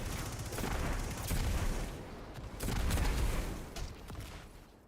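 Rapid SMG fire with armor-piercing rounds in Destiny 2, sounding as dense, overlapping bursts of shots that rise and fall in loudness across the whole stretch, loud and close.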